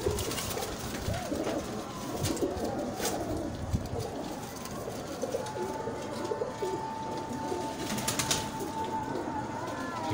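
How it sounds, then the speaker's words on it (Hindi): Pigeons of breeder stock, including blue and Mazha Cheena birds, coo in a dense overlapping chorus in a city loft, with scattered chirps and a steady hum of background noise throughout. "कुछ कबूतर इधर आते चले गए, ये देखें।"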